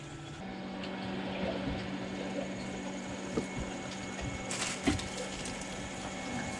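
An RV water pump hums steadily at close range while water begins to flow through the lines, with a few brief knocks and a sudden brighter hiss near the end as the flow picks up.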